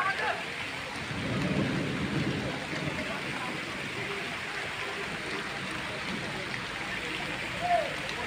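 Heavy rain pours steadily in an outdoor village setting, with low rumbles of thunder rolling through under the constant hiss of the downpour.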